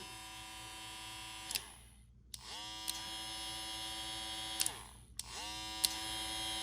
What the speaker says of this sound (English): I say the trimmer actually just a tad bit louder than the clipper, but not by a lot.